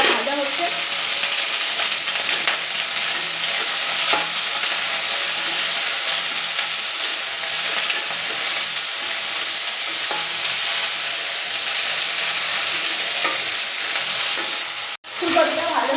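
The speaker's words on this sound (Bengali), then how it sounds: "আর হচ্ছে ফুলকপিটা ভাজা হচ্ছে" Cauliflower pieces fry in a pan with a steady, close hiss of oil, broken now and then by a soft stir or scrape; the sizzle holds level throughout and cuts off briefly near the end.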